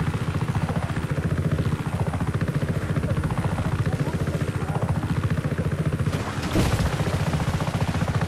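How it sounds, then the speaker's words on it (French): Helicopter in the video game Just Cause 3, with a loud steady rotor chop and a cyclic whine rising and falling, joined near the end by a brief burst of noise. "On va tester avec un hélico pour voir."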